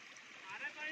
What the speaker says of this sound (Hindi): आ गया भाई पानी, आ गया। चल रहा है पानी, चल रहा है।